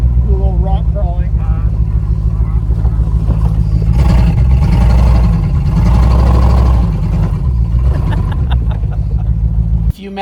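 A Jeep engine rumbles loud and close while rock crawling off-road, a steady low drone that swells and revs harder midway, with voices talking over it.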